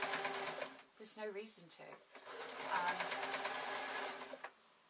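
A sewing machine stitches a flowing shirt, its rapid mechanical whirr running in bursts close up, pausing briefly, with a person talking over and between the runs.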